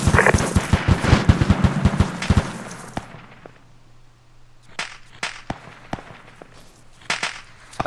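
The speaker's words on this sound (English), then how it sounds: "Striker, be advised, you're taking heavy AA fire." Heavy anti-aircraft gunfire in Arma 2 on the Takistan map: a dense, loud burst of rapid automatic shots for about two and a half seconds, then scattered sharp distant cracks and pops against a low steady hum.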